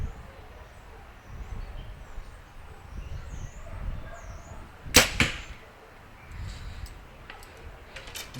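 An arrow leaves a target compound bow with a single sharp, loud release snap and a quick second knock. Quiet outdoor ambience and faint birdsong surround it, and no one speaks.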